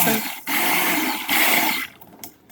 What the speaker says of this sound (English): Okay, got my stick blender.